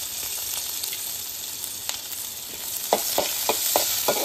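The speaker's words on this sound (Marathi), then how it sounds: "आता कांदू टाक." Chopped onion sizzles steadily in hot oil while a Malvani-style chicken masala is cooked. Near the end, a series of rhythmic stirring scrapes cuts through the close, continuous frying hiss, and no one speaks.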